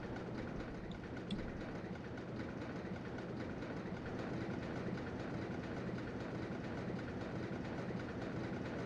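Roller coaster train rolling along its track in RollerCoaster Tycoon, a faint, steady rumbling clatter that continues evenly throughout with no voices over it.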